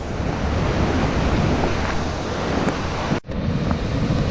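Rushing water pours steadily through the chutes of Victoria Falls on the Ganaraska Trail in Ontario, running high with extra flow. A dense, continuous roar fills the scene close by, with no voices and only a brief dip near the end.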